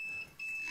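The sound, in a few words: vacuum sealer beeping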